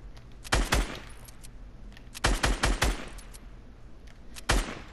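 Repeated bursts of video game gunfire crack out in clusters, a short volley early, a rapid string of several shots in the middle and one more near the end, loud and close over a steady low game background.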